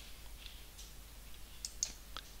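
Several sharp, light computer mouse clicks land at irregular moments over a faint steady background hum, close and fairly quiet, with no talking.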